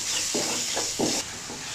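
Cumin seeds, salt and crushed red chili flakes fry in a pan with a steady high hiss, broken by three soft scraping stirs; the sizzle dips slightly near the end.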